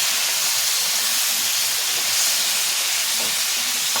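A little water poured onto a frying ginger-cumin paste throws up a loud, continuous hissing sizzle, close and unbroken, with no voices.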